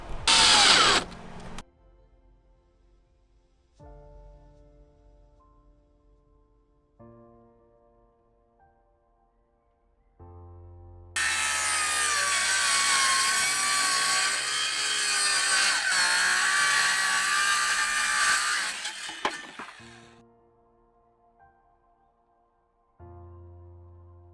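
A power drill driving 2-inch screws into wooden sideboards for wheel well covers in a van build, with short whirring bursts, then one long sustained grinding drive of several seconds, and quieter mechanical clicks between.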